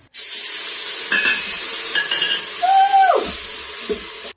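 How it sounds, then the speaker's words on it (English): Risotto rice with wine sizzles steadily in a pan, a constant hiss carrying a few light scrapes as it is stirred. "Got the wine in, and now I'm just stirring it."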